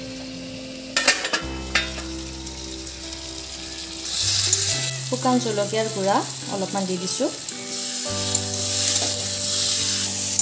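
Fish with spices sizzling and being stirred in a hot pan for an Assamese yam-and-fish dish, a loud steady crackle swelling after a few seconds with the clink of a spoon, while someone talks over it.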